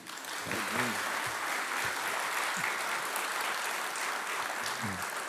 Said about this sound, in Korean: 짐 모어, 한번 뜨거운 박수로